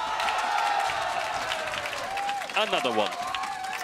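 Crowd at a League of Legends LEC Summer 2022 esports match cheers and applauds in a steady, broad wash throughout, with casters talking over the noise.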